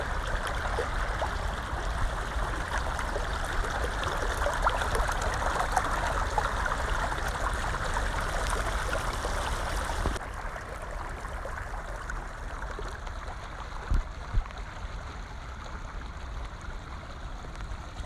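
Floodwater pours over a flooded rice field during a typhoon, a constant rushing, stream-like flow heard close up, dropping a little in level partway through, with a couple of faint knocks.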